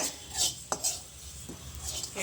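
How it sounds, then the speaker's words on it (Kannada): Mustard, fenugreek and cumin seeds dry roast in a pan, with light metallic scrapes and spoon clinks against the pan and a faint crackle, a few distinct knocks in a short stretch. "ನೋಡಿ ಫ್ರೆಂಡ್ಸ್ ಇದು ಡ್ರೈ ರೋಸ್ಟ್ ಮಾಡ್ಕೊತಾ ಇದ್ದೀನಿ ಇದು ಸಾಸಿವೆ ಮೆಂತ್ಯ ಜೀರಿಗೆ"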